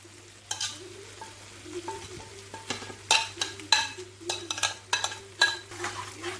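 Paneer with its marinade gravy stirred in a pan, a soft low sizzle beneath irregular, increasingly frequent metallic scrapes and taps of a spoon against the pan, close up.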